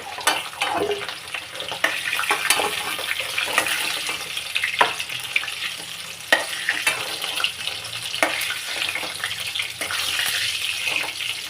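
Continuous crackling sizzle of potatoes deep-frying in hot oil, with occasional sharper pops and stirring clatter, close and fairly loud.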